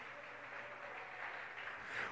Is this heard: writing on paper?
no